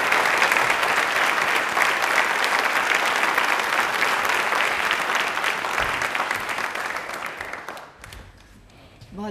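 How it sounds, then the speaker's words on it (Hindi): Audience at a Hindi Pakhwada event loudly applauding Seema Vijay, a thick, continuous burst of clapping that runs for several seconds before dying away into quiet room tone. "एक बार जोरदार तालियां होनी चाहिए सीमा विजय मैम के लिए"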